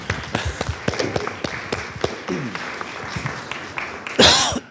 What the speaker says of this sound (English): I think we owe a round of applause for that.